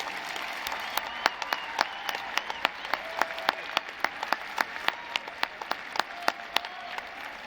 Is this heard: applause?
yes